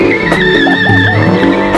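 A 420-horsepower Porsche 718 drifting, its tires squealing in long sustained high-pitched tones over a steady engine drone, loud and close throughout.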